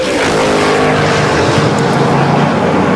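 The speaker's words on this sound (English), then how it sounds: "The pickup truck versus the Monte Carlo." Loud engine roar as a pickup truck and a Monte Carlo drag race down a racetrack, a sustained dense rumble with shifting pitch, heard close and alone.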